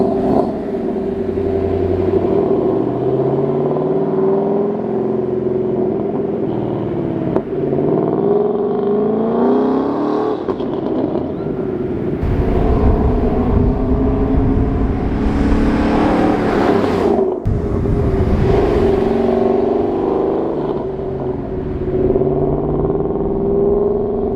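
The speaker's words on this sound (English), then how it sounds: "before I get these things chopped off, I'm gonna give y'all a couple of flybys real quick" A 2014 Ford Mustang 5.0 V8 with mufflers still fitted makes flyby passes, its engine droning and rising as it accelerates past, loud and sustained with swells as the car nears and recedes.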